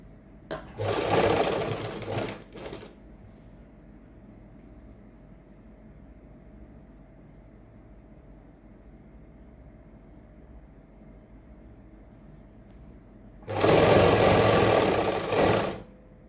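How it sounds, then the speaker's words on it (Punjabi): Sewing machine stitching a kurti sleeve to the shoulder seam, with two loud bursts of steady running, one near the start and one near the end, separated by a long quiet stretch of faint hum. "ਇਸ ਤਰ੍ਹਾਂ ਤੇ ਬਾਹ ਤੇ ਮੋਢਾ ਆਪਾਂ ਜੁਆਇੰਟ ਕਰਕੇ ਸਟਿਚ ਕਰ ਦੇਣੀ ਹੈ"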